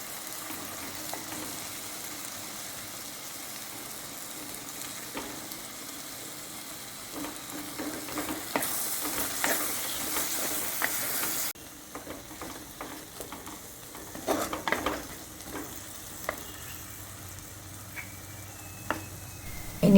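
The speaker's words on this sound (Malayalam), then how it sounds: "ഇതിൻ്റെ ജ്യൂസൊക്കെ ഇറങ്ങി വന്ന പോലെ ഒന്ന് നമ്മുടെ കയ്യിൽ വെച്ചിട്ടൊന്ന് ഇതുപോലെ ഉടച്ചുടച്ച് കൊടുക്കാം" Cooked tomatoes are mashed down in a sizzling pan for a potato masala curry, with a steady frying hiss broken by scattered soft squelches and scraping knocks, close and moderately loud, with no talking.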